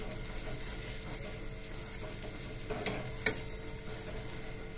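Water chestnut flour roasts in ghee with a faint, steady sizzle and soft intermittent scraping of a spoon stirring the pan, with one sharper clink near the end.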